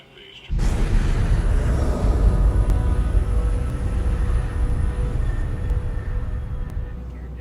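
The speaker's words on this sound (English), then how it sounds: "The plane is refueled" A hijacked airliner takes off as a sudden, loud, broadband engine roar. It starts abruptly and then holds steady, with no talk over it.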